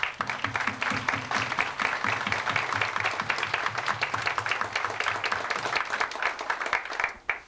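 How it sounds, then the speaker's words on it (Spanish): An audience at a collective wedding ceremony in Tehuitzingo, 1998, gives sustained, dense applause lasting several seconds before tapering off at the end. "Para ellos quiero que les brindemos un fuerte aplauso."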